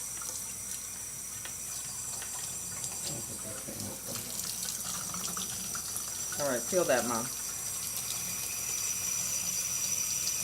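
Tap water runs steadily into a sink as it is adjusted to lukewarm, a continuous close rushing under brief talk, with a short bubbling change partway through.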